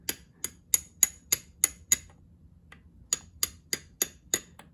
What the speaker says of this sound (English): we'll just try to hammer in from the side gently